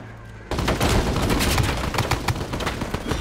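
Rapid gunfire erupts suddenly after half a second of near quiet and keeps going as dense, loud, overlapping shots in a free sniper video game.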